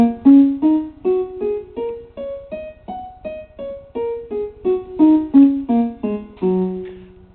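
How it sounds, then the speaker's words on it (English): Keyboard playing the black-note pentatonic scale, a run of about twenty clear, evenly spaced single notes stepping up and down, heard alone. "5 notes, it's the pentatonic scale."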